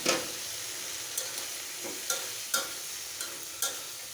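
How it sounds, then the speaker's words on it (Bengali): Dried fish with eggplant and chopped potato being fried down in spiced oil, a soft steady sizzle broken by a few sharp spoon scrapes and taps against the pan, with no voices. "দিয়ে দেবো সেই মাছ, একটু বেগুন, আলু কুচি দিয়ে ভালোভাবে কষিয়ে নেব"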